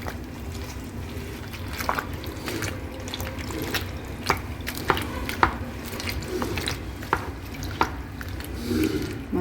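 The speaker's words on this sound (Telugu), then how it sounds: "ఇలా వాటర్లో ఈ మొక్కలన్నీ వేసేసి అప్పుడు దానికి ఈ బెల్లం యాడ్ చేసి మొత్తం మునిగేలాగా ఒకసారి బాగా కలిపేసుకోవాలి" Banana stem pieces and jaggery being stirred into a container of water, giving soft sloshing and swishing with occasional sharp knocks and splashes, close by and steady, with no voices.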